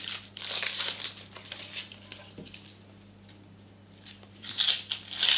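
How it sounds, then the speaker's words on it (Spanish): Dry onion skin crinkles and crackles as it is peeled off by hand on a kitchen counter, in close, brittle bursts at the start and end with a quieter stretch between. "ahora vamos a limpiar una cebolla. Lo primero que vamos a hacer es pelarla"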